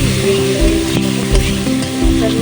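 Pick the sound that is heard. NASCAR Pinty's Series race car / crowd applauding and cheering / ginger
ginger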